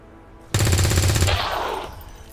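Automatic weapon burst in XCOM 2, a loud close rapid volley of shots lasting about a second, then a fading echo tail with no voices.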